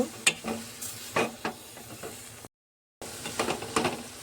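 Carrot halwa simmering in milk in a pan, stirred with a spoon, giving soft repeated scraping strokes and a light bubbling sizzle, faint and close, with a short gap of silence.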